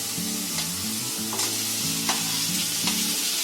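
Tomatoes and vegetables fry in a pan with a continuous close sizzle. Stirring produces occasional scraping clicks, background music plays underneath, and nobody speaks.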